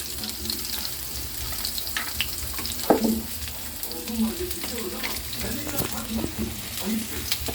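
Ingredients sizzle in hot cooking oil in a pan for a Filipino sarsiado fish dish, with steady crackling, occasional stirring scrapes and bursts of frying close up.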